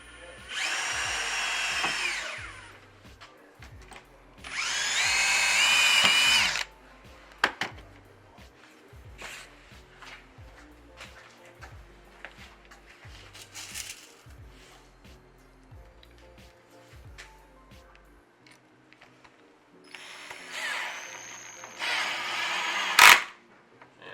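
A power drill whirs in short loud bursts, three separate runs with quieter gaps between, alongside some clicking and handling noises, while fitting a reel mount to a speargun.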